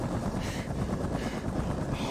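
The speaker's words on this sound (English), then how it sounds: "Protect the helicopter." A Far Cry 3 helicopter gives off a steady, dense rotor roar and engine rumble, loud and continuous throughout without pause.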